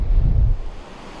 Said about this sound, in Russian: чтобы не мешал шум воды, потому что здесь вот такая плотина и достаточно шумно